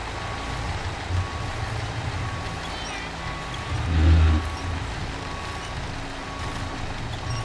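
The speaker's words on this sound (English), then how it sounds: "And my truck just slides right back, pretty much right where it came from." A heavy truck engine rumbles low and steady in SnowRunner while a reversing alarm beeps repeatedly over it, with a brief louder surge of the engine near the middle.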